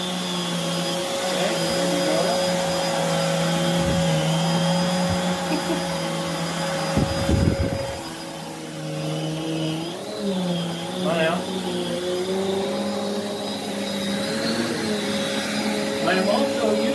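A Prolux X8 Elite backpack vacuum cleaner with an EBK360 kit hums and whines steadily and loudly throughout, its pitch shifting slightly as it works, with a brief clunk partway through.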